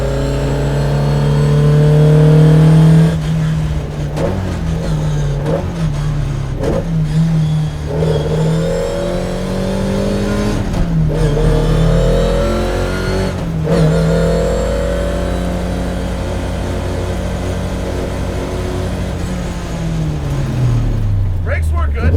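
A 1978 Fiat Abarth 131 'Alitalia' Group 4 rally car engine roars loudly up close, rising and falling through repeated revs and gear changes, with a long sustained drone before winding down.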